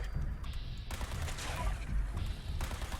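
A Quad Lucky Laser Pistol fires repeatedly in Fallout 76, with several sharp zapping shots landing in quick bursts amid the game's busy combat noise.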